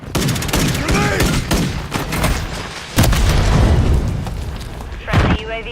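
A video game firefight carries booming grenade blasts and bursts of gunfire that stack into loud, close concussive hits, with a sharp impact near the start of the third second and another just after the fifth, under shouted in-game voice callouts.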